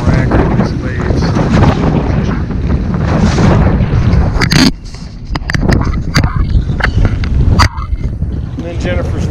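A boat's trolling motor pushes against waves while drift socks drag behind, under strong wind buffeting and splashing water. Someone talks over the noise, loud and close.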